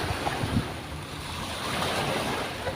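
Steady roar of sea waves washing in, with gusty wind buffeting the microphone throughout; no voices.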